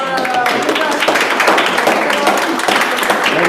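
Applause at an astronomy workshop wrap-up: dense, continuous clapping from a small group, fairly loud and steady throughout, with voices talking over it.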